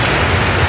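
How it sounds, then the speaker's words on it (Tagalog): Heavy rain pours down during a storm, a loud steady dense hiss of drops filling the whole moment with no voices. "Ayan po, ang ulan, napakalakas po."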